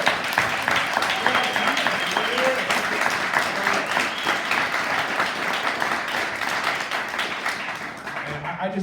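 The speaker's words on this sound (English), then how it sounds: "this is a grand time for us to a rousing applause for Paul Carr" Sustained audience applause for a drummer at a jazz interview, demo and workshop event, a thick continuous wash of many hands clapping at even loudness for the full stretch.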